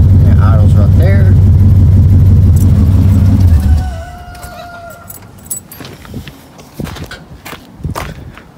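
A 1969 Dodge Charger daily driver's engine idles with a loud, steady low rumble for several seconds, then drops away sharply. Quieter clicks and handling noises follow.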